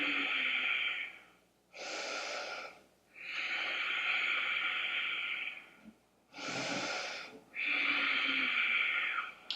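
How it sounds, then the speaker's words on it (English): Slow, deep breaths during a yoga practice, long inhales and exhales in steady cycles with short pauses between them, close and clear with no talking. "one more big breath in."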